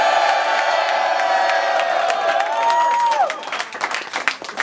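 A crowd at a Don't Flop rap battle cheers, whoops and applauds loudly and continuously, with a shouted voice rising through the noise before the applause thins into scattered claps.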